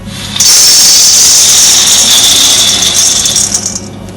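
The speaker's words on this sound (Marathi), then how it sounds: "आता आपण कढई गरम करायला ठेवली आहे त्यामध्ये आपण शेंगदाणे टाकून घेऊ" Raw peanuts poured into a hot kadhai over low heat for homemade peanut butter make a loud, close, continuous rattling hiss that lasts several seconds.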